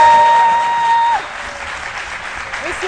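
A studio audience on the set of the RTI C'Midi show applauds loudly and steadily, the clapping holding at full strength before easing off somewhat, with no talk over it.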